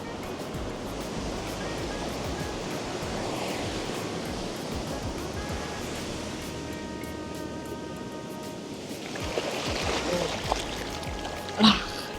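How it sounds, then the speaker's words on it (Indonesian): Waves break and wash steadily along a black-sand beach at Petitenget, Bali on a cloudy morning, a continuous broad roar of surf with wind, swelling slightly near the end. "Tunggu aja sebelah sini pasti datang sendiri ombaknya."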